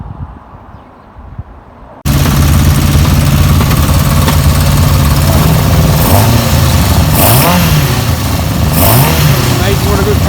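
A Yamaha XJ600 motorcycle engine, freshly carb-cleaned, fires up after a quiet start and runs loud and close, idling steadily with a few rising revs near the end, while a voice talks over it.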